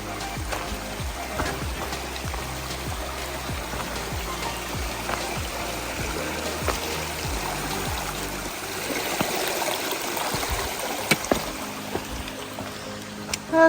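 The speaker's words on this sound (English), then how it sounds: "Okay, I'm crossing the creek now." A creek trickles and babbles steadily beside a hiker on a Georgia trail, with soft, rhythmic footsteps and splashes as the crossing is made, fairly quiet and without talk.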